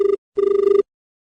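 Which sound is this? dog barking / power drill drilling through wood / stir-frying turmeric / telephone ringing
telephone ringing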